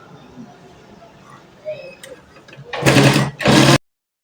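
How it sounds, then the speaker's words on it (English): A sewing machine stitches a senator placket: after quiet handling noise, two short, loud whirring bursts of rapid stitching run close up, then stop abruptly. "I'll just run a stitch like this, a tiny stitch down."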